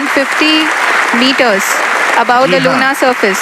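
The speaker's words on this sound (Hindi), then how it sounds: "आप इस तालियों के गड़गड़ाहट को सुन सकते हैं" Scientists applaud during the Chandrayaan 3 lunar landing descent, clapping audible beneath a voice giving a mission-control announcement that dominates throughout.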